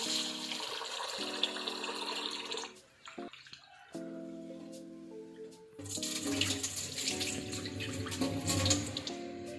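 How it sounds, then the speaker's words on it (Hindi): Rice and moong dal being washed under a running tap for kheer, a loud steady gush that breaks off briefly, then resumes stronger with splashing, no talking. "उसके अंदर हम राइस और दाल दोनों को डाल देंगे और इसको 2 से 3 दफ़ा हम वॉश करेंगे।"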